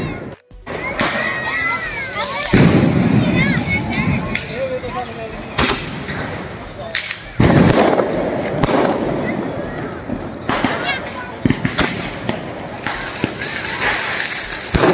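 Diwali firecrackers and fireworks going off outdoors, sharp loud bangs and crackling bursts repeating irregularly over a hissing, fizzing background, with voices faintly audible.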